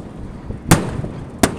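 Fourth of July fireworks go off outdoors as two sharp, fairly distant bangs about 0.7 seconds apart over a low background rumble.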